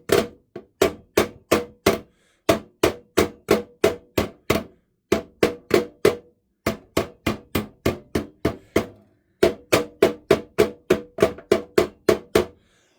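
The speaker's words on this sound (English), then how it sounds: "So we'll just get the ball peen hammer." A ball peen hammer strikes the metal of a Bernard W0 pump repeatedly to round it back out, with sharp, ringing close blows in quick bursts of five or six, separated by brief pauses.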